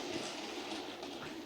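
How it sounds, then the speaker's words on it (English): A model train on a layout, run from a Hornby controller, hums and rattles steadily along its track, a soft continuous running sound at low level. "couple it up to a nice little train and see how it goes around the layout."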